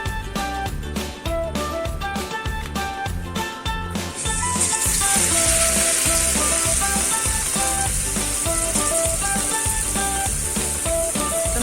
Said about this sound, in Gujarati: હવે આપણે આ પકોડા તળીશું